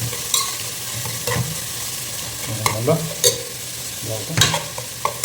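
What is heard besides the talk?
broken dried red chillies frying in a pan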